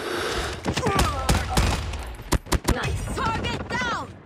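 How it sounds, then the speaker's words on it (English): A sentry gun fires in a modern military shooter video game, sharp bursts of gunfire mixed with other game sounds and brief voice chatter, close and loud. "Sentry gun ready for deployment. Sentry gun deployed."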